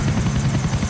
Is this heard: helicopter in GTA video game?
yes